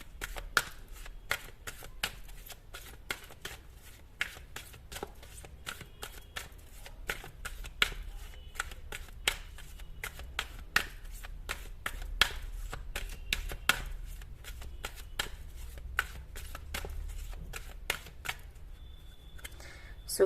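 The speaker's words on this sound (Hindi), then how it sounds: "तो अगर आपको कार्ड शफलिंग पसंद नहीं है, आप इसको स्किप कर सकते हो बेशक।" Tarot cards are shuffled by hand in a steady run of soft, quick riffling snaps and taps, close and fairly quiet, continuing for the whole stretch with no talking over it.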